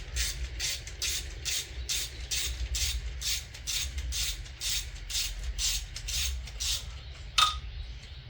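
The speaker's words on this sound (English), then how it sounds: "If you heard something clunk, that's because one of them fell." A bolt drops out with a single sharp metallic clunk near the end, during an oil change service on a Mercedes-Benz S550 (W222), heard over a steady mechanical whir with repeated rhythmic ratcheting pulses throughout.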